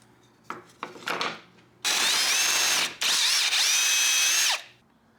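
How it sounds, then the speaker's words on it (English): A power drill whirs in two sustained bursts, briefly pausing between them, drilling a small hole in a DIY CNC dust boot, after a few short scraping and tapping sounds up close. "I can just drill a little bit of a hole in here"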